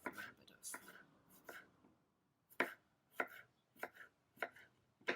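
A knife chops ginger on a cutting board in quiet, close strikes, first a few spaced cuts, then a pause, then a quicker run of sharp taps.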